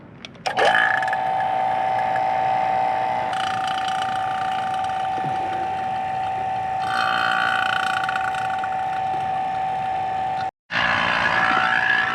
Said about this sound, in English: You hear the pump working.